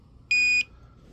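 A portable four-gas detector, the Toptes Guard-156, gives a single sharp electronic beep of its carbon monoxide alarm near a generator, loud and brief against a quiet background.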